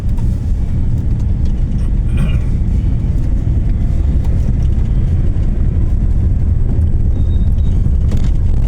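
A car drives along a highway road in Bangladesh, leaving a steady close rumble of engine and tire noise with wind across the microphone, continuous and unchanging with no voices.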